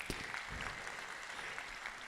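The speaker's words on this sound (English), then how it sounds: "So another big round of applause." Applause from a lecture audience at a World Engineering Day event in Singapore, a short burst of many hands clapping, faint and distant throughout.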